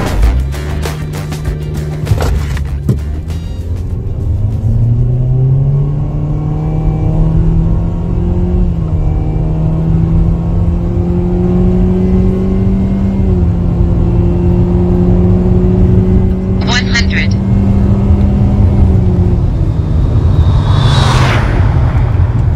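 Mitsubishi XFORCE crossover accelerating hard on a race circuit with two occupants and the air conditioning running, a steady rising engine drone and whir inside the cabin, holding loud throughout with a brief click near the end.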